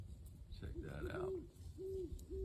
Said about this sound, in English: There's 2 owls on the island with me.